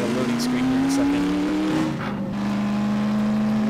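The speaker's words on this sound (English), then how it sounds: "I love the sound of this car" A car in the video game Half-Life 2: Episode Two, its engine droning loud and steady with tire noise, the pitch sliding slightly partway through and holding continuously throughout.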